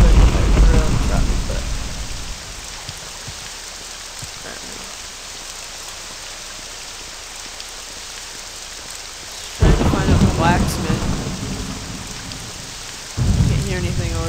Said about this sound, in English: Can't hear anything over the stupid rain.